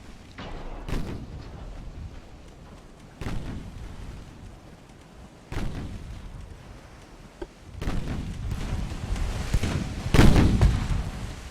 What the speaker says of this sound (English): let her start shooting